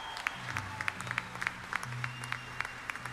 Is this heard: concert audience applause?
yes